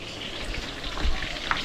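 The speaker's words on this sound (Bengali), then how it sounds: "এখানে চিলি চিকেনের পকোড়াগুলো ভাজা হচ্ছে" Chili chicken pakoras frying in hot oil, a soft continuous crackling sizzle with a few small pops, fairly quiet and without voices.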